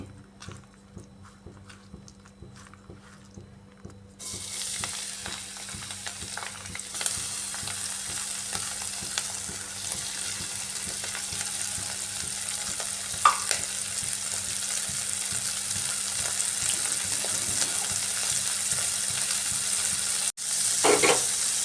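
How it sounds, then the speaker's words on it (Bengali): Small shrimp, coated in salt and turmeric, fry in mustard oil in a wok. After a quiet start, a steady, close sizzle builds and holds, with occasional stirring clinks. "চিংড়ি মাছগুলোকে হালকা ফ্রাই করে নিচ্ছি"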